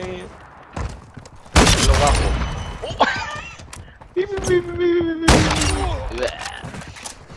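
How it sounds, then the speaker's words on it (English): Bursts of gunfire in a shooter video game crack out in loud volleys at intervals, mixed with game impact sounds while someone talks and shouts over them. "Who's fucking shooting me, man?"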